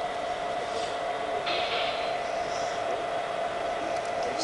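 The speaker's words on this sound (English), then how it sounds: "See the train running in there?" A small battery-powered toy train runs steadily nearby with a continuous whirring hiss and faint clicks, alone and without voices.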